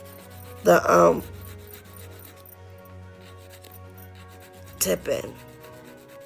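A 180-grit file rasps across an acrylic nail tip in two short scratchy bursts separated by a quiet pause, close to the ear, with a few quiet spoken words.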